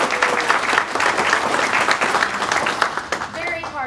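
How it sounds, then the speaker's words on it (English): An audience at a talk on small-community housing and federal subsidies breaks into brisk applause for a few seconds, the clapping thinning toward the end as a voice starts to speak. "I think Barbara deserves a round of applause"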